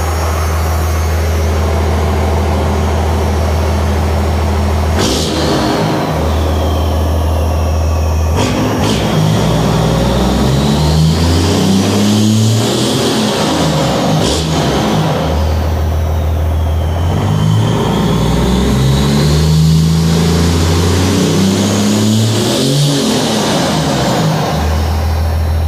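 A pickup truck's engine in cold, snowy weather idles loudly and is revved repeatedly, rising and falling in several sweeping surges over about 26 seconds, heard close up.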